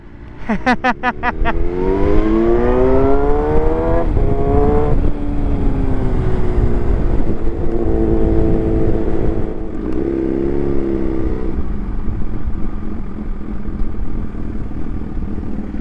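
A motorcycle engine revs hard, its pitch climbing in sweeping pulls after a burst of quick clicks, then settling into a loud, rough idle and a second shorter rev, all close by.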